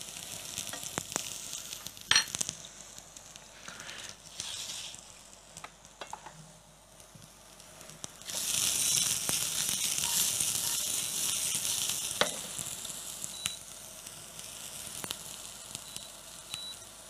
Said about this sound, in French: vous allez vous servir de la marinade de la viande pour venir finir de la cuisson des carottes et du soja et les pois gourmands